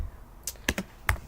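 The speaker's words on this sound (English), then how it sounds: "let's go type in Bumblebee" A few separate keystrokes on a computer keyboard, close and fairly crisp, spaced irregularly over about a second, with no talk.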